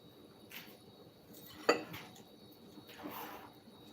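Pound cake batter being mixed in a bowl, with a few soft scraping swishes and one sharp clink of utensil against the bowl, quiet and close.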